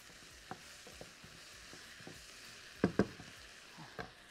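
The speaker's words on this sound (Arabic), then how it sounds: "وبعد كده تقليبه." Tomatoes fry quietly in a pan while being stirred: a soft, low sizzle broken by a series of light taps and scrapes, with two sharper knocks near the end.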